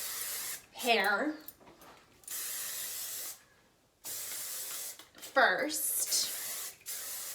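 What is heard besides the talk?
hairspray being sprayed on hair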